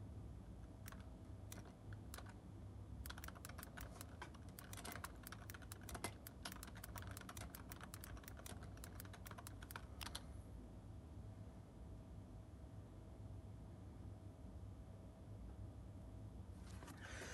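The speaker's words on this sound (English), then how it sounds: "I'm typing my friend." Rapid typing on a computer keyboard: a steady run of light, close clicks for about ten seconds, then quiet room tone with no talking.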